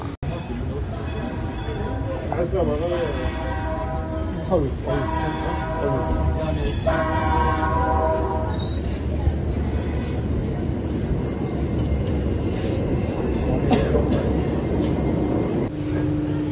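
A metro train rolls along at Sahel station in Tunisia with a constant loud rumble, squealing wheels and rattling carriages throughout, while voices talk underneath.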